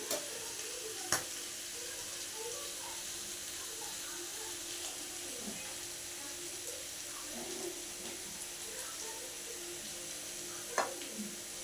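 Potato slices frying in a pan for spicy vegetarian aloo bhaja give a steady, soft sizzle throughout, with a few faint clicks of stirring and no talking.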